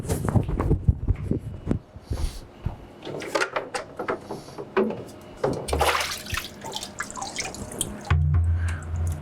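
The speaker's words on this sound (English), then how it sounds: "aluminum screens floating around in a water-only dip tank takes a little bit to manage sometimes" Water splashing and dripping as aluminum screen-printing screens are handled in a water-only dip tank, with irregular drips, sloshes and knocks close by and no talking.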